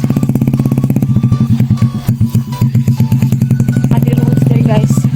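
Motorcycle riding along a muddy road, its engine chugging loud and close in fast regular pulses that slow briefly midway and then pick up again.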